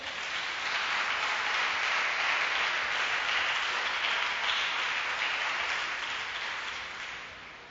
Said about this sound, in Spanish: Dele aplausos a Dios en esta hermosa noche.